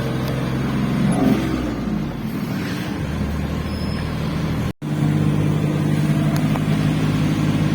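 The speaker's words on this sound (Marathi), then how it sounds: "थर्ड गियरान आहा गाडी." An overloaded truck carrying 50 bags grinds uphill in third gear with a steady, labouring engine drone, loud and close throughout apart from one brief dropout partway through.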